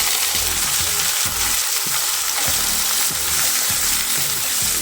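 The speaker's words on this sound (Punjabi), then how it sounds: "ਹੁਣ ਅਸੀਂ ਪਿਆਜ਼ ਪਾ ਦਵਾਂਗੇ ਬਰੀਕ ਕੱਟ ਕੇ" Finely chopped onions frying in an oil tadka with ginger and garlic for a pumpkin sabji, a loud, dense, close sizzle with rhythmic stirring strokes thumping through it, no speech.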